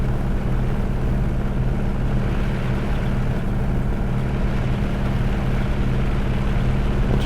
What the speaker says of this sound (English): plenty of power, 2000 horsepower in this radial.